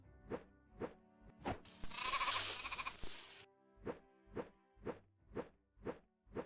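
Sheep in a video game bleat in a steady series of short, evenly spaced calls, broken midway by a brief whooshing rush of noise before the regular bleats resume.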